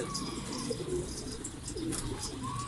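Pigeons coo softly in the background while a steady rustling hum fills the scene, with no clear wing flaps and no talking.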